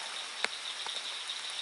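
Nighttime drizzle patters on leaves and brush, with a sharp drop tap and a few softer hits over a steady high insect-like drone outdoors.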